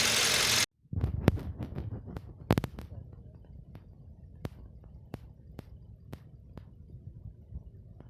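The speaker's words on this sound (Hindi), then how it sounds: "इंजन मिस कर रहा है।" Idling petrol engine of a VW Vento with a misfire caused by a faulty fuel injector, uneven low rumble punctuated by sharp irregular ticks and knocks after a brief louder burst at the start.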